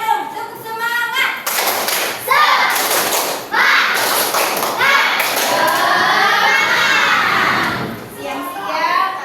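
Children in a classroom perform a 'tepuk semangat' clapping chant, rhythmic bursts of group clapping mixed with lively chanting voices, loud and continuous for several seconds.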